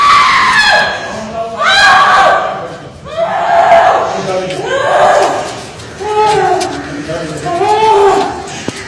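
A woman screams repeatedly while being beaten, shrill wailing cries rising and falling in long bursts with voices and commotion mixed in.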